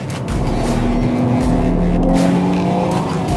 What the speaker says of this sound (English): Now we're driving out of the corner with slight oversteer.